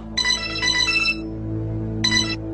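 A mobile phone rings for an incoming call, playing a bright melodic ringtone in two bursts with a short pause between them, loud and close over a low steady hum.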